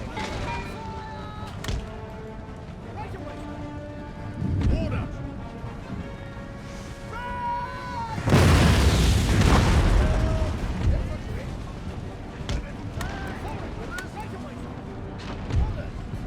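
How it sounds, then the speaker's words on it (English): A heavy booming blast of cannon fire in Empire: Total War erupts midway with a loud rumbling burst, amid ongoing game music and battle noise, with scattered thuds before and after. "And then we'll get the cannons involved."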